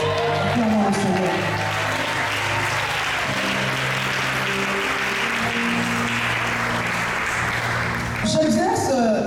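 A church seminar congregation applauds loudly and continuously, dense clapping rising and holding for several seconds over sustained music, then tapering as a voice comes back in.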